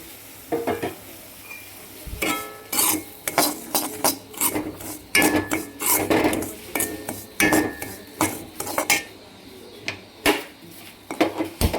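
Semolina (rava) roasting in ghee in a pan: close, repeated scraping and rasping spoon strokes with a light sizzle, coming in uneven rhythmic bursts with short pauses between them.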